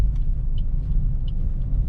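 Low, steady rumble of a car creeping along at very slow speed while the steering is turned, continuous road and engine noise with faint light clicks above it.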